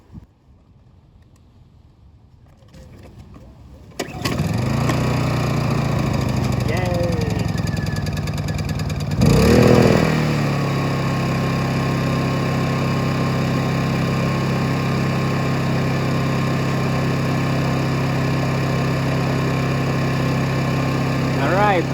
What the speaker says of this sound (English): that's my first successful run of the generator